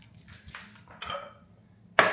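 Large ice cubes dropped into a glass while making iced matcha, giving a few separate clinks and knocks, the loudest and sharpest one coming last, close and fairly quiet.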